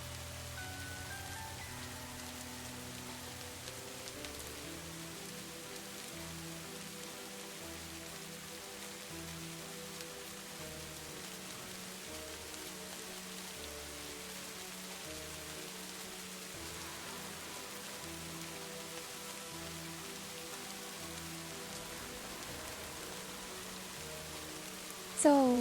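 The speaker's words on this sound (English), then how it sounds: "The sound of the raindrops hitting the leaves is so peaceful and relaxing." Steady rain falls on leaves in a continuous soft patter that stays even and unbroken from start to finish, with a low background hum beneath it and a brief knock at the very end.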